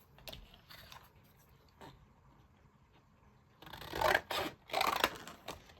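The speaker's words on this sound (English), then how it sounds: "Let's grab the scissors again." Scissors snip through card in a few crisp, close cuts near the end, after quieter scattered handling noises.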